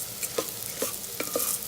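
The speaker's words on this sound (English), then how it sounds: "Just fry it for a minute with the dal to incorporate all the flavors together" Tur dal frying with a spice mixture in an Instant Pot, a soft low sizzle under a few light stirring scrapes spaced about every half second, close and quiet.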